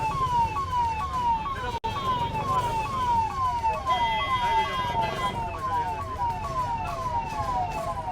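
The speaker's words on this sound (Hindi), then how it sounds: "ये देखिए, यही वो एम्बुलेंस 108।" A 108 emergency ambulance siren wails in rapid repeating rising-and-falling sweeps, loud and close, sounding continuously over low street rumble.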